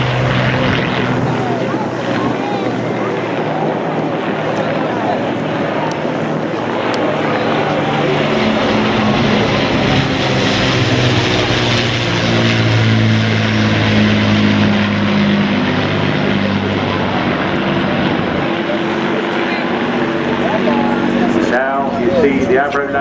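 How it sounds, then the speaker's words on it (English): A WWII Avro Lancaster heavy bomber flying past at an air show, its piston engines droning loud and steady with a slowly shifting pitch, while an announcer talks over it. "the most famous and successful Royal Air Force heavy bomber of World War II"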